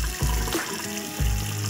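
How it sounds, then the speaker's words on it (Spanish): Tap water runs steadily over eggplants being rinsed in a kitchen sink colander, a continuous splashing gush with a couple of sharper bursts as the flow hits the vegetables. "Vamos a enjuagar bien nuestras berenjenas."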